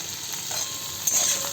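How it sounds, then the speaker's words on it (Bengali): Mixed vegetable greens salted and frying in a pan hiss with a close, steady sizzle while being stirred, with a scrape or two near the end. "একটু নুন দিয়ে ভাজা হোক"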